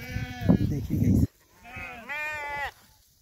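Sheep in a herd kept by Rabari herders in Chhattisgarh bleat in two loud, wavering calls close by, the first mixed with a rougher voice, the second long and tremulous with clear harmonics.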